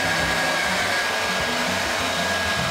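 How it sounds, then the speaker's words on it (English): Hair dryer blowing on soaking wet hair, a steady, close, loud whooshing roar that runs unbroken with no talking. "Let me just blow dry my hair,"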